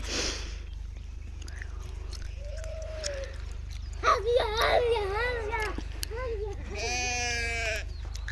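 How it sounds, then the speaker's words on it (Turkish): A newborn lamb on a farm gives several high, wavering bleats, each brief and close, with quieter pauses between them and soft farmyard background. "En son doğan kuzumuz."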